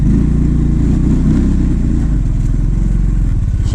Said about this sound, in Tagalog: Wala tayong clutch. Ang hirap. Palyado to guys.